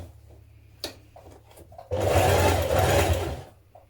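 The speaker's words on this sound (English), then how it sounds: "Now sew down your side seams to the bottom of your leg" A sewing machine stitching the side seams of dungarees, a few short fabric rustles and clicks, then a close, rapid mechanical whirr of the needle running for about a second and a half before stopping.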